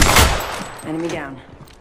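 Gunfire in the Apex Legends video game striking the player, a loud burst of impacts at the start that fades into scattered weaker hits and game effects.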